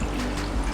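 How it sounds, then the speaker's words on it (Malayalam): A quarter cup of water is poured into a cooking pan on a gas flame, a brief close splash and trickle lasting under a second. "ചട്ടിയിലേക്ക് നമുക്ക് 1/4 കപ്പ് വെള്ളം ഒഴിക്കാം."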